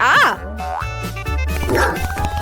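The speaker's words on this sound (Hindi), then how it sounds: "ओह नहीं, मेरी बॉल गिर गई।" A cartoon ball falls and bounces with a springy boing, followed by dog barks and yips, loud and close.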